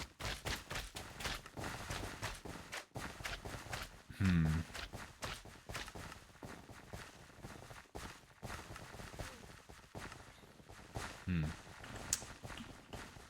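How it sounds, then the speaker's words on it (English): Repeated running footsteps in Minecraft, All The Mods 9 modpack, thud in a quick, irregular rhythm across the whole stretch, with a couple of brief tonal game noises mixed in and no speech. "I can't get rid of the footstep sound of like someone running."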